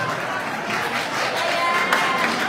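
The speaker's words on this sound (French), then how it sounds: "Applaudissez très fort" A debate audience claps in a steady, moderately loud wash of applause, with crowd murmur and a voice faintly under it.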